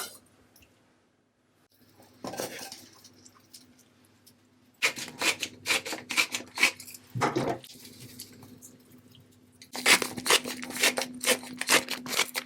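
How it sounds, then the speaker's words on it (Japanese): A knife saws and presses through a chicken thigh at the joint on a board, quiet scraping and crunching strokes in irregular bursts separated by near silence. "この関節のところから2つに切り分けます。"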